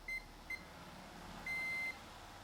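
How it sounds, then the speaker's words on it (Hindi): A multimeter in continuity mode emits three faint, thin electronic beeps while probing small capacitors on a Samsung LED TV board: two short blips, then one longer tone. "जैसे ही मैं पे टच कर रहा हूँ देखिए बीप साउंड आ रहा है"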